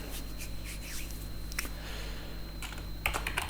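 Steady keystrokes on a computer keyboard while entering React Native code, a quick run of close, fairly soft clicks continuing throughout with no voice.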